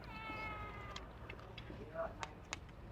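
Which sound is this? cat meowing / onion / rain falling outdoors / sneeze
cat meowing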